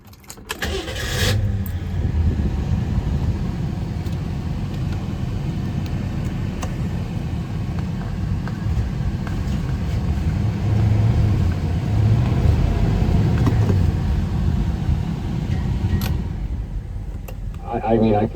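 A 1968 Ford Galaxie XL starts with a short crank and then settles into a steady, rumbling idle that stays loud and close throughout, with some faint voice underneath.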